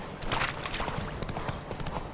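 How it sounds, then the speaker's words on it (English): A horse gallops in The Witcher 3 Wild Hunt, quick rhythmic hoofbeats close and loud, repeating steadily with no talking. "I hate this horse mechanics!"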